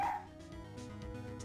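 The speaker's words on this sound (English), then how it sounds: "Look, Nick, cute dog." Short dog bark and yip in the Phoenix Wright: Ace Attorney video game, one sharp bark at the start followed by soft whimpering tones, fairly quiet and alone with no talk.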